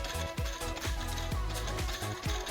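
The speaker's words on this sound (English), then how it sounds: "the bearings, you can hear them rattling in there, and that's no good" Worn bearings in a Mercedes deflection pulley rattle as the pulley spins, a close, loud repeating knocking and grinding with a steady rhythm of roughly two beats per second over a continuous mechanical clatter.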